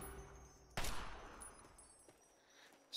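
A single loud gunshot in Fallout 3, fired from a gun modded with heavy recoil, cracks sharply and then fades into a decaying echo, with another shot starting at the very end.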